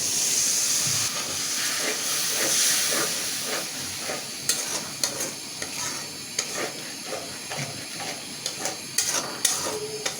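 A splash of water hits a hot pan of frying ground spices, releasing a loud steaming hiss that settles into steady sizzling, punctuated by repeated scraping stirs of a spatula.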